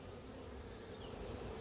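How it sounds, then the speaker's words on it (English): Honey bees in a National beehive make a soft, dense, continuous buzz, close and steady, with no voices. "Nice calm bees."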